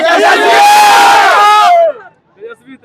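A large crowd of young people at a political rally in Nawada erupts in a loud, sustained shout for about two seconds, then cuts off abruptly, leaving scattered quieter voices.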